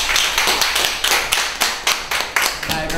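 Audience applause breaks out during a science laboratory education programme, a steady dense wash of clapping hands that swells in repeated surges and fills the whole stretch without voices.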